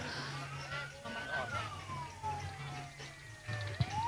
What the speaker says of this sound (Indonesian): ambulan ini ya. mau lewat dulu